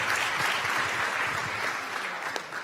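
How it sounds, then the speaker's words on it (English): Applause from the audience at a UN youth climate summit for a young presenter, continuous moderate clapping from a crowd, steady throughout, with no voices over it. "An applause for Brighton."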